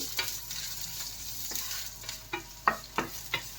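Ginger fries in a pan while chicken feet are being cooked, a faint steady sizzle broken by several sharp stirring clicks and scrapes, close by with no talk.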